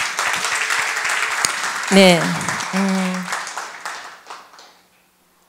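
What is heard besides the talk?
congregation applause in church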